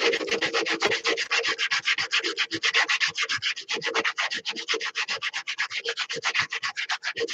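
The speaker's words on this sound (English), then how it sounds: "So this heavy sandpaper dials it in. This is that heavy, like 80 grit sandpaper." Coarse 80 grit sandpaper is rubbed over a wooden massage tool in fast, steady back-and-forth strokes. The rasping is close and loud and runs on without a break, with no voices.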